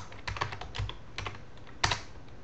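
Bursts of close typing on a computer keyboard, with a few quick clustered key clicks separated by short pauses.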